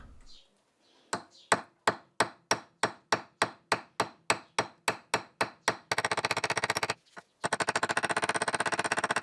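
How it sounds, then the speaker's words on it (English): A hammer peening over a brass pin set in a knife handle: about fifteen sharp, evenly spaced close blows, then a rapid run of quick light taps, a brief pause, and another fast run. "just put this brass pin in, hammered it home, peened it over till it was solid"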